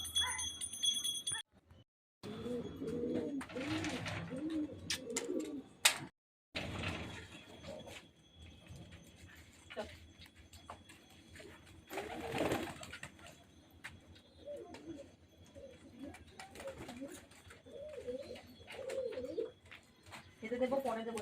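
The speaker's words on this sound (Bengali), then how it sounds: "এই যে পায়রা বসলো।" Pigeons cooing after landing on a rooftop loft during a flying session, soft repeated coos fairly close, with brief mechanical knocks and a clatter near the start and a faint voice.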